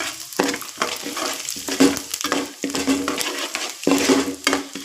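Chana dal, urad dal and cumin fry in oil for lemon rice as a spoon stirs in bursts, each stroke bringing a rush of sizzle and a scrape against the pan, about six strokes in all.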